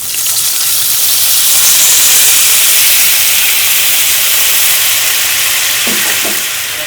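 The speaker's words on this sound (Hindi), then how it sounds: "अब हम इसमें पानी ऐड करेंगे।" Water poured into a hot cooking pot while preparing a salmon dish, giving a loud, steady steaming hiss and sizzle that fills the whole stretch, with a couple of brief clanks near the end.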